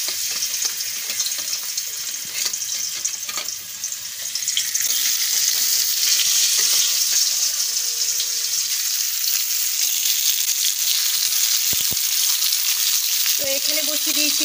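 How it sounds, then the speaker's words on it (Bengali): Slices of pumpkin, rubbed with salt and turmeric, fry in hot oil in a home kitchen, giving a loud, dense, unbroken sizzle throughout, with a faint clink near the end. "তো কুমড়োটা এবার তেলের মধ্যে দিয়ে দেব"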